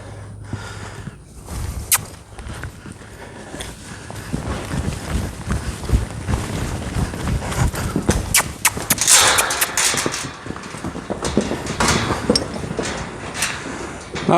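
A newly saddled horse running, hooves thudding in an uneven, busy rhythm with snorts and rustling, fairly near and continuous throughout.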